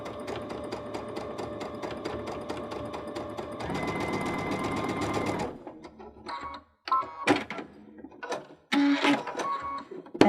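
Baby Lock Unity 22 sewing machine with a 3mm twin needle stitching corded pintucks, a steady fast mechanical whirring stitch that shifts pitch midway, then stops and gives way to scattered clicks and handling noises.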